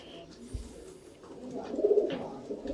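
Sialkoti sharmila pigeons coo softly in a low, rolling call that swells near the end, close by over quiet background noise.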